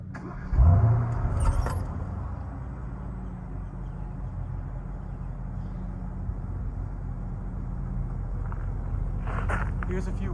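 A Mercedes-Benz W222 S-Class, not an AMG, cranks and fires up with a short rising whirr, then settles into a smooth low idle close by; some faint jangling and light sounds of movement occur during the start.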